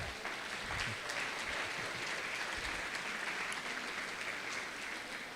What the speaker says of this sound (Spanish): Denle un aplauso a Daniel